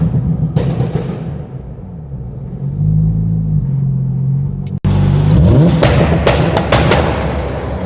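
A Porsche 911 996 Turbo engine idles, then is held against a launch-control rev limit, a loud steady roar with a sharp break and resumed surging, crackling drone close by.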